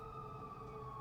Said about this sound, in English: And it's just the ambulance.